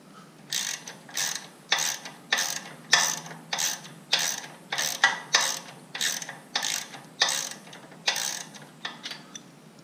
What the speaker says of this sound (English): So what I'm going to have to do is I'm going to loosen up the 4 motor mounts.